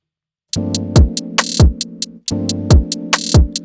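Crisp, quick Logic Pro hi-hat ticks and short rolls with rising velocity skitter over a sustained chord, punctuated by booming low kick hits.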